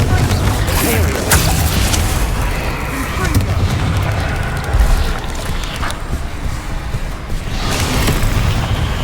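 Heavy explosive booms and rumbling blasts from the Confringo spell in Hogwarts Legacy pile up over a dense, loud battle din, with several sharp bursts spread across the span.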